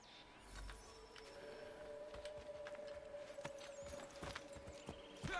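Faint hoofbeats of a galloping horse in Assassin's Creed III Remastered clatter in a quick, uneven rhythm against a soft background hum.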